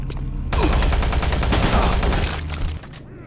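Machine gun fire in DOOM 3 rattles in a rapid, loud stream of shots for about two seconds, close and dense, then cuts off to a fading tail.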